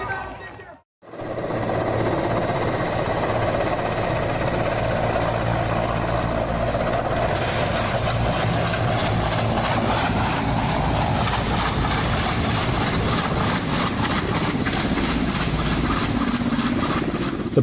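At an air racing event, a helicopter makes a loud, continuous engine and rotor roar that starts after a brief gap and holds steady throughout, with a voice talking underneath.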